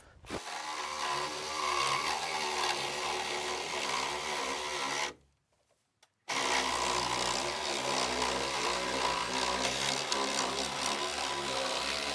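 A power saw cuts off a wooden brace on a house wall under construction: a loud, sustained motor whine in two long runs, separated by a short pause.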